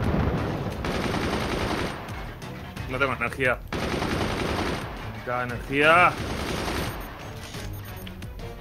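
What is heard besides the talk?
cannon fire in a video game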